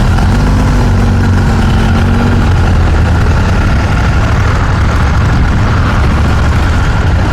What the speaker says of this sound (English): I do like the soft engine. It's not a very obnoxious engine